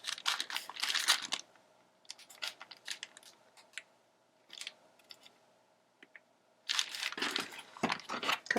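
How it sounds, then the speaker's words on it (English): Paper bags handled and placed on top of one another for a snowflake craft, giving bursts of close crinkling and rustling separated by quieter pauses, with a louder stretch of crumpling at the start and end. "now I'll put this top bag on"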